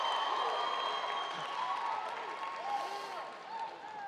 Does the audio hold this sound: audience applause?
yes